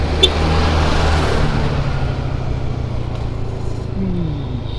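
A car overtaking on a smooth asphalt road between Banyumas and Cilacap via Gumelar, with a steady engine and road-noise drone, heard from inside the vehicle, continuous and moderately loud.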